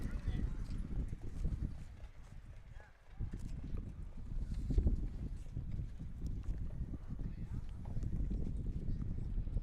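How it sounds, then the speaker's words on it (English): Harness racing horse hooves clip-clopping at an afternoon county fair as the winning horse enters the winner's circle, steady soft hoofbeats beneath a track announcer's voice and outdoor wind. "Coming in from Dundee and Mount Vernon comes number 2, Stars in My Crown."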